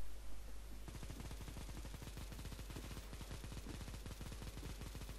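Sustained Negev machine gun fire in a video game, a dense rapid stream of loud shots rattling almost without a break for several seconds after a brief lead-in.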